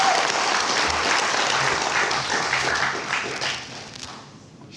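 An audience at a NasDem party event applauds Anies Baswedan, a dense burst of many hands clapping close and loud, gradually thinning and fading toward the end.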